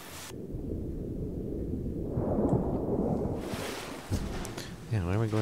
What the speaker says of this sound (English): Oh, I guess that's just a storm.